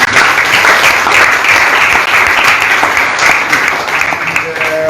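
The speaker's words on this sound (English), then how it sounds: "I think we should give a hand of applause to" A loud, dense wash of audience applause fills a donation ceremony where old students of Benin Technical College handed over computers, sustained throughout with crowd noise and some voices mixed in.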